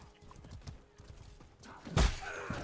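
Horse hooves pounding at a gallop in the medieval combat game Mordhau, a quick uneven clatter of beats, moderately close, capped by a loud thudding impact burst near the end.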